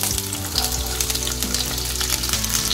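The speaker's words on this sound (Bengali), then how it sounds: "তো তেলটা গরম হয়ে আসলে আমি এবার পেঁয়াজগুলো দিয়ে দেবো, যেগুলো আমি বড় টুকরো করে কেটে রেখেছিলাম।" Large chunks of onion frying in hot oil in a pan for Punjabi-style shahi paneer, a steady close sizzle with crackling spatter and no talking.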